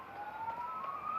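A police car siren approaches as a single rising electronic wail that climbs steadily in pitch and holds at moderate loudness over a soft background hiss, with no talking.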